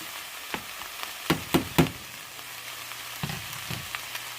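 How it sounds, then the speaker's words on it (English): Mushrooms and onions sauté in a pot without olive oil for one-pot pesto pasta, giving a soft, steady sizzle with a few sharp, close stirring scrapes and knocks. "the juice from the mushrooms is going to kind of help the onions saute a little bit"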